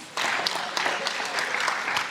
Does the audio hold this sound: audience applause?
yes